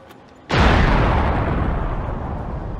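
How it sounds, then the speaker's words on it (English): A single loud explosion bursts in suddenly, a sharp boom that rolls into a long, broad rumbling decay lasting several seconds. "Suddenly, there was a loud explosion."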